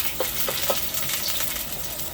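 Vegetables with tomatoes sautéing in a pan with a little oil, giving a steady crackling sizzle with a few sharper pops and stirring clicks, close and moderately loud.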